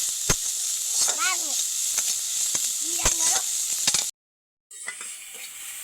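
Tomato and green chilli fry in a pan for a paneer sandwich, a steady bright sizzle with occasional stirring scrapes, close and continuous before cutting out briefly, with faint voices in the background.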